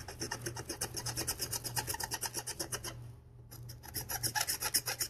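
A rasp scrapes steadily across a surface being planed, in fast, even rhythmic strokes up close that pause briefly before resuming, alone without voices.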